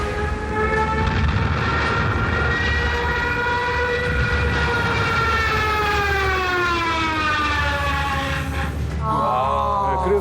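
Stuka dive bomber siren, a loud wailing tone with many rising and falling harmonics that sweeps downward over about ten seconds and then shifts near the end.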